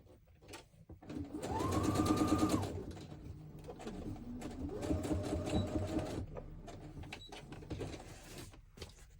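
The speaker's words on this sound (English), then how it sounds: "I'm just going to try and stitch around the edge of the little flaps of the envelope." A sewing machine stitching fabric around envelope flaps, running in two whirring bursts of a few seconds each, with soft handling noises between and after.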